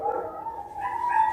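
A neighbor's dogs barking and yipping in the morning, a short whiny, high-pitched burst from somewhat off at a distance, heard alone without talk.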